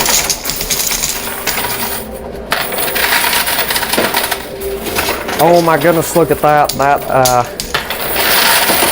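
Coins clatter and cascade in an arcade coin pusher machine as a stack topples, a loud, continuous metallic jingle with an excited voice talking over it.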